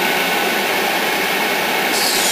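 An Airtex Black Hole twin fan spray booth runs with both fans on, giving a steady, loud, even airflow roar that holds constant with no talk.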